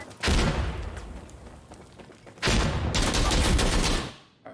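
Heavy gunfire roars in the FiveM game with strong recoil, two long dense bursts with booming low rumble and a brief gap between them, loud and close.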